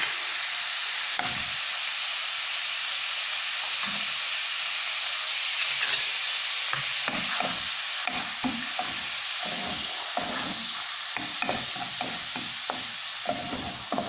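Garlic fries in oil in a pan for a chicken liver chermoula dish, a steady loud sizzle over the whole stretch, broken repeatedly by stirring scrapes and clinks of a utensil.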